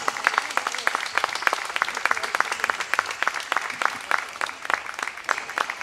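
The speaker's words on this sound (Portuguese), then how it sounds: "Desde já peço um grande aplauso para o Grupo de Danças e Cantares de Barcelos" An audience applauds the Grupo de Danças e Cantares de Barcelos, a folk dance group marking 30 years, at the opening ceremony of a folklore festival in Barcelos; many hands clap in a steady, crisp stream, moderately distant and even.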